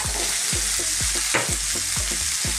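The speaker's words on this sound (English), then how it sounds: "we're going to stir fry this on a high heat for about 2 to 3 minutes" Food is stir-fried over high heat in a wok, with a loud, steady sizzle broken by rhythmic scraping tosses roughly twice per second.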